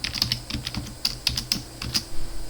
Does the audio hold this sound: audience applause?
no